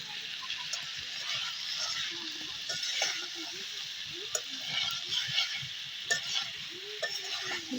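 Meat and fried potatoes cook with spices in a pan, a soft continuous sizzle with stirring scrapes, alongside a faint, low background.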